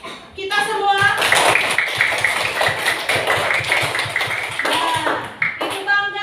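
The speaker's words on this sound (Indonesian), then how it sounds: "Tepuk tangan untuk kita semua." Classroom applause from students after a presentation, steady dense clapping filling the room for several seconds, with voices talking over it.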